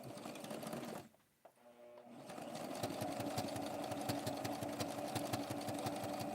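A sewing machine double stitches a doll dress, running in a steady rapid whirring hum with a brief pause near the start before it runs continuously again.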